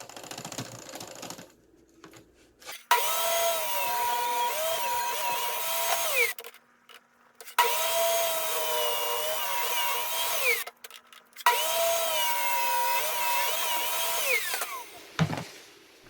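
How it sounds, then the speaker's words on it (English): A power saw rips wooden boards lengthwise to trim thin strips off their edges, heard as three long, loud, whining cutting passes separated by short quiet gaps, with tonal shifts as the blade works through each board. "each board was ripped to trim just a little bit off to help glue the boards"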